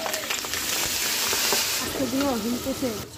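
Spices with cashew paste and ginger paste being stirred as they fry in a pan, a steady close sizzle with scraping stir strokes, while a voice talks over it.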